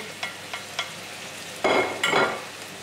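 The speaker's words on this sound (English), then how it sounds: "We've got squid rings, we've got some marinara and some green prawns. Chuck it all in." Squid rings, marinara mix and green prawns are tipped into a hot paella pan: a few light taps, then a sudden loud burst of close sizzling that swells again as the seafood hits the oil.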